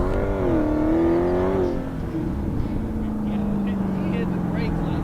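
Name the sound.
Dodge Challenger Hellcat accelerating at full throttle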